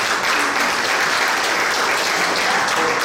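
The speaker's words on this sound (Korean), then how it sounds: "우리 감사의 격려 박수" Steady, dense applause from a large assembly at a church mission board's general meeting, filling the whole stretch at an even, loud level with no break.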